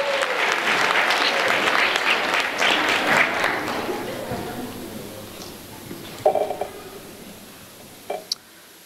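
Church audience applause welcomes a children's choir: a dense burst of clapping that gradually fades out, followed by a few scattered knocks and small sounds.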